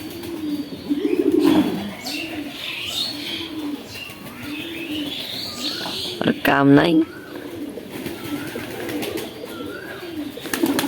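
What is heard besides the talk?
pigeon cooing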